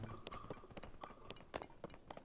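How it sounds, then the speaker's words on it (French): Horses' hooves in The Legend of Zelda, a quiet, rapid run of light clip-clop beats continuing throughout. "Oh, il y a les chevaux."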